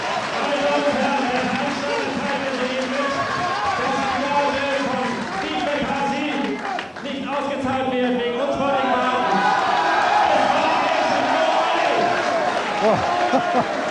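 A boxing arena crowd at the 1992 Michalczewski versus McCarthy fight gives a steady round of applause and cheering for McCarthy as he walks past, a dense, continuous roar of clapping and voices mixed with commentary throughout.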